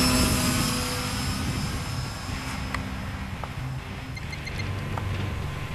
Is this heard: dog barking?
no